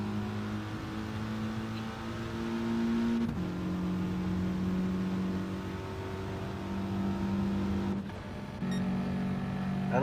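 GT4 race cars running nose to tail in a line at Fuji, engines droning and shifting pitch together as a sustained roar with a few gear changes, without any talk.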